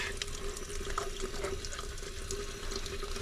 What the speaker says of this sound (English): you're going to come to the sink and you're going to just wash it